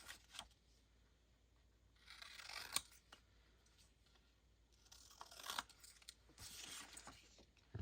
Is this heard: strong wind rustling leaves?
no